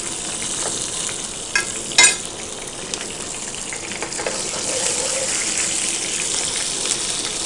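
Whole cumin, shahjeera, cinnamon, cloves and cardamom frying in a pan for a chicken curry with ponnaganti greens, giving a steady close sizzle with a brief clatter early on and no talk.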